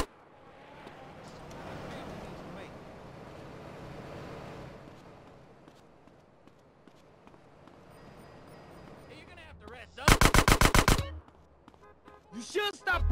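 Gunfire in GTA San Andreas: a low, windy rumble with scattered pops, then a loud rapid burst of about eight shots, followed by a few more shots.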